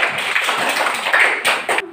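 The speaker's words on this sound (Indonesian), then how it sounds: "Tepuk tangan sedikit" A small group of people in a classroom claps their hands together in a short, dense burst of applause that stops abruptly.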